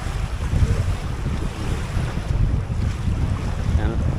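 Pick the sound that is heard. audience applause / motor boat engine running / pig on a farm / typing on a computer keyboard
motor boat engine running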